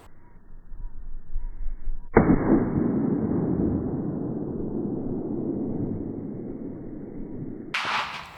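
A surplus military rifle fires at a baseball outdoors, one loud sharp report whose long rumbling boom rolls off over several seconds, followed by a bright brief noise burst near the end.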